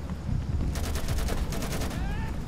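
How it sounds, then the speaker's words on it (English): A rapid burst of suppressing automatic gunfire in Insurgency, a steady run of evenly spaced shots lasting over a second amid noisy battlefield ambience. "Suppressing fire there."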